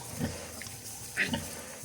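A newborn piglet squeals during a nighttime farrowing, two short sharp cries about a second apart, close by over a low barn hum.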